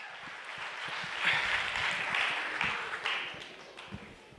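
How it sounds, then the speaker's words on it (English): An audience applauds after a singer's a cappella performance, a sustained wash of clapping that swells and holds at moderate loudness for several seconds, heard from within the crowd. "Give her a round of applause."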